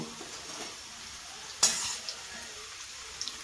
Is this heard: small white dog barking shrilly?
no